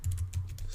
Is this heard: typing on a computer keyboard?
yes